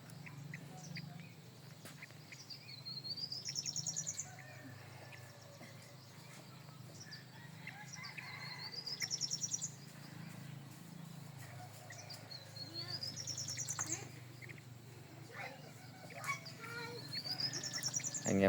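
Small young caged birds give faint, repeated rising chirps at intervals over a soft background hum, with quiet, distant talking in places.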